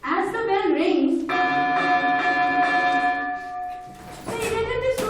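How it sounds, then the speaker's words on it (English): A classroom bell rings out at the end of a class, a sustained metallic ringing with steady tones that runs for several seconds, with a brief voice at the start and children's chatter swelling near the end. "As the bell rings,"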